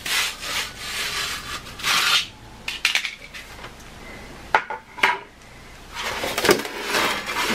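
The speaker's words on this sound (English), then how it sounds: "I am going to use a X-Acto knife instead" An X-Acto knife cutting material up close, with bursts of scraping and slicing that rub, pause, then resume in short strokes, fairly loud, with no talking.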